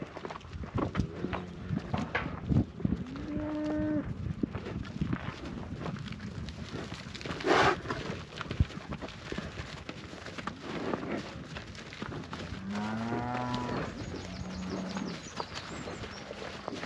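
Cows being led from a dairy field low on and off at intervals, faint and somewhat distant, over a bed of hoof steps, shuffling and outdoor wind noise.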